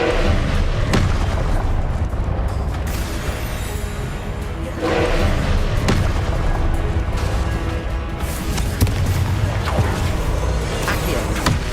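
Fiery Confringo spell blasts in Hogwarts Legacy on hard difficulty, heavy booming explosions recurring every few seconds amid dense, loud combat noise and rumbling throughout.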